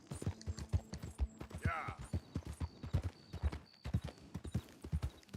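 A horse named Kevin walks in Red Dead Redemption 2, its hooves clip-clopping in a steady, even rhythm close by, with a brief whinny and a voice talking over it.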